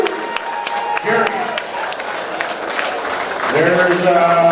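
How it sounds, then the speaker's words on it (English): Scattered clapping from a crowd honoring the winners at a walleye fishing tournament in South Dakota, building toward the end while someone speaks loudly over it. "Give them a big round of applause over here, winners"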